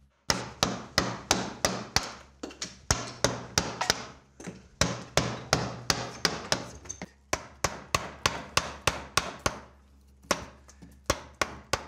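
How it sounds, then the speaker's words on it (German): Linden wood being roughed out with a mallet and chisel into the basic shape of a carnival mask, giving a steady run of sharp, close wooden knocks in quick succession with short pauses between bursts. "Wir nehmen das rohe Holz und versuchen mal, einfach die grobste Form, die es gibt, festzulegen."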